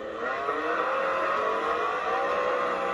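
F1 race car engine in a racing video game, a steady high whining drone at full throttle, loud and unbroken with no talk.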